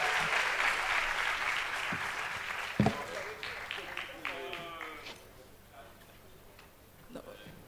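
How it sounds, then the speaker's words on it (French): Audience applause at a French-language conference panel on digitalisation, training and youth employment, a broad steady wash of clapping that thins out and fades over several seconds, with a voice speaking partway through. "Applaudissez fort, c'est grâce à elle qu'on a ce panel."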